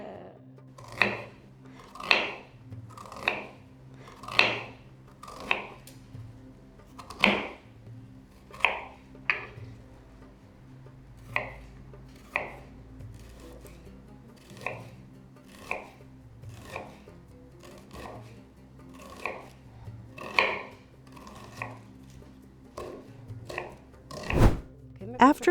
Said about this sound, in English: Thinly slice the onions so that they easily melt and caramelize.